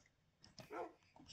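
Minecraft wolf tamed as a dog gives a single short bark with a brief whimpery yip before it, faint and close in quiet game surroundings.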